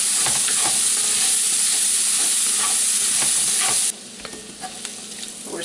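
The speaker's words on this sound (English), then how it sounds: "cooking the veggies down" Vegetables for jambalaya sizzle and fry loudly in a pot as they are stirred, a dense crackling hiss with scraping strokes that drops to a quieter sizzle near the end.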